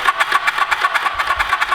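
An old motorcycle that sat unused for at least ten years, fired up on its electric start and running with a fast, steady, rattly mid-pitched engine pulse, close and loud, with no talking.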